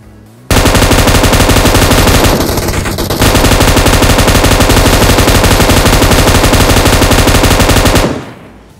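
M249 machine gun fire in the mobile battle royale PUBG Mobile, one loud near continuous automatic burst lasting about seven seconds with a brief dip in the middle, then cutting off abruptly.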